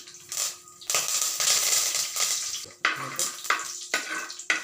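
Fenugreek, mustard seeds and curry leaves hit hot oil for a fish curry, crackling in loud, uneven bursts with scraping and clinks of the pan, no voices.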